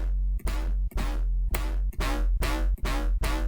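A heavy drum and bass synth patch built in Serum with stable stereo unison, hit in a series of loud, dense, buzzing stabs with short gaps between them, close and without talk.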